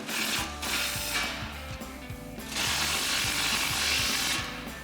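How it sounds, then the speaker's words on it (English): Impact wrench with a 13 mm socket tightening lock nuts on a RAM 2500 side step bar rail, hammering in a loud, steady rapid rhythm through two long bursts. "So we've got our 13 mil socket on our impact."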